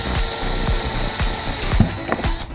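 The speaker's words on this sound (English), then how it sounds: "we'll go ahead and do an 1/8 inch pilot hole first, just to find our center point." Power drill boring a 1/8 inch pilot hole in soft plastic during a Chevrolet Silverado car stereo install, a close whirring motor with a rhythmic churning pulse and steady high whine.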